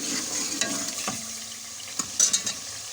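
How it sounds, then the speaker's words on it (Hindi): Potato and carrot fry in a spice paste, giving a low, constant sizzle broken by spoon-stirring scrapes and a few light metallic clinks against the pot. "सब्जी को अच्छी तरह भूनेंगे।"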